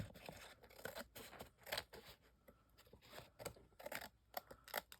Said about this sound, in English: this page just needs to be trimmed a little bit, so I'm going to trim that